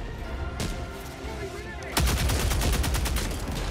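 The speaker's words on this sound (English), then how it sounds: "Man, that's the orbital cannon I main." Orbital cannon barrage in Helldivers 2, a loud broadband blast hitting at about two seconds, then dense rumbling booms and crackling impacts continuing to the end, with faint game noise beforehand.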